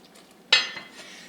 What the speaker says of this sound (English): now to finish cooking the dumplings, what you do is cover the pot